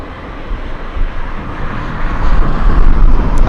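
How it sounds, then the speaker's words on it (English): Broadband jet roar of a Boeing 777 and a Korean Air Cargo aircraft taxiing and arriving at Anchorage airport, a steady wind-buffeted rumble that grows louder toward the end, with no talk. "We have a 777 coming in. This one taxiing, and we have an arrival."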